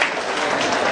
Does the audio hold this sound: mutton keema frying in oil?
no